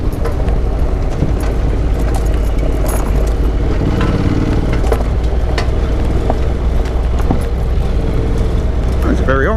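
A Honda NC750X motorcycle rides an off-road ridge trail, its engine giving a steady, loud rumble with wind noise that holds level throughout, and a voice is faintly present beneath it.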